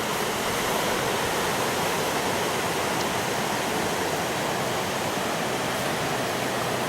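A river flowing past an old mill, a dense, steady broadband rush of water with no breaks, loud and close and unchanging from start to finish.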